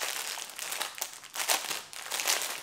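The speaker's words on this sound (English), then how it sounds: "sorry about the rustling" Crinkly rustling of a sealed plastic packet holding cross-stitch chart supplies, close and continuous, with irregular bursts of crackling handling noise and no voices.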